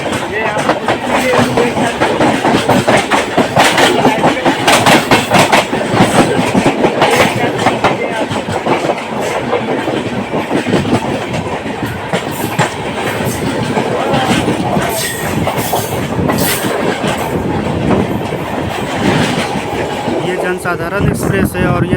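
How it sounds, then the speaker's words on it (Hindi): A Janasadharan Express passenger train running between Danapur and Anand Vihar via Lucknow rumbles loudly and continuously with a rhythmic clickety-clack of wheels on rails, heard from close by with people talking over it. "जनसाधारण एक्सप्रेस है, और ये दानापुर से आनंद विहार के बीच चलती है।"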